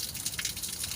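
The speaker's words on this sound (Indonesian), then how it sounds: "kalau ini keran yang sudah dipasang, bisa dilihat perbandingan kucuran airnya" Water running from a water-saving faucet at a mosque ablution area, heard as a steady, close gushing stream that holds for about a second with no one speaking.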